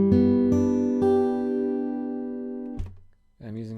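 A guitar chord from the Undertale shop theme is struck with a few quick strums, then rings and slowly decays before a brief pause and another chord begins.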